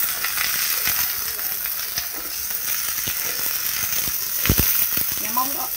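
Green beans stir-frying in a pan for a vegetarian dish, a steady close sizzle and hiss with occasional clinks and scrapes of stirring throughout.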